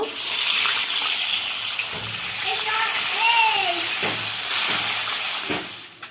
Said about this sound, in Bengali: মাছটা এখন ভেজে নেব।